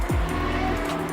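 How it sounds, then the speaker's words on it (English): A motorcycle passing outside gives a steady low engine rumble that swells briefly at the start and then holds as a continuous, somewhat distant drone. "you hear that motorcycle outside?"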